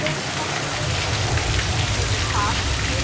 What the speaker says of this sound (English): that rain is created by putting sprinklers in the tops of the trees and on the tops of the telephone poles